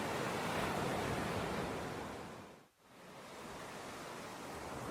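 Sea waves for a children's story scene of a rhinoceros swimming in the sea: steady broadband surf wash with a brief dip in the middle, continuous and fairly loud, with no voices.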